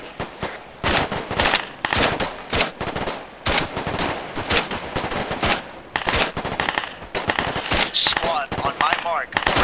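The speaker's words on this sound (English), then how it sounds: "We're being engaged, so go ahead and start shooting." Rapid, loud bursts of rifle and machine-gun fire during squad combat training, near and overlapping, with shots crackling almost continuously for the whole stretch.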